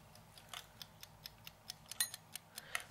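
A kitchen timer ticks steadily at close range, a regular series of sharp, even clicks about four per second with nothing else heard.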